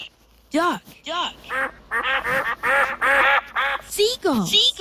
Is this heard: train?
no